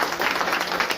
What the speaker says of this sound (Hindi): जरा जोरदार ताली बजाइए।